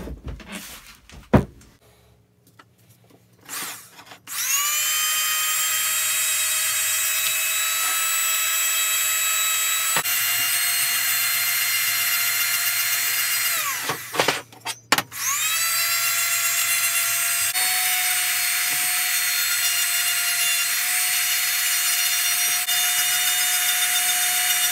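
Abrasive grinding on a cast cylinder head for a GX390 kart engine with a 36 grit wheel, a loud sustained whine in two long passes separated by a brief pause, with no talking.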